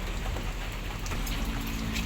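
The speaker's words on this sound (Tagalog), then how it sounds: "Ulan lang po talaga." Steady rain falls on a rainy day without wind, a dense continuous patter of drops on surfaces, close and even throughout with no voices.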